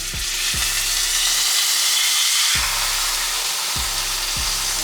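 A T-bone steak sizzles steadily in a hot pan, a continuous loud hiss with a few low thuds as the meat is laid down and pressed, no talking.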